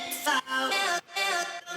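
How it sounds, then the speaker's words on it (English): Chopped vocal samples made in Logic for a tropical house track, playing as short bright syllable bursts in a choppy rhythm, close and clear. "So I created vocal chops."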